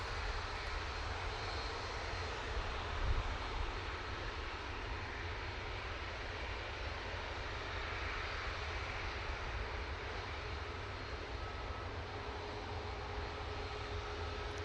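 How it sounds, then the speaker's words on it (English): A Ryanair jet airliner departs Manchester Airport, a steady broad engine roar with a deep rumble that holds at a constant level throughout, heard from a distance. "There goes that Ryanair off to Brussels."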